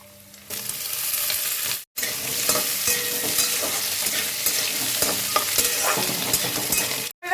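Potatoes are added to hot mustard oil with a five-spice tempering in a kadai and sizzle loudly while being stirred, with two brief drops into silence.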